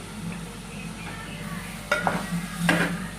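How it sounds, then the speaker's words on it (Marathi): Vegetables being stirred into masala in a pan for veg biryani, a low sizzle with two louder bursts of stirring and scraping near the end. "थोडंसं वर खाली करून मसाल्यामध्ये चांगलं हलवून घेऊया, ढवळून घेऊया चांगलं"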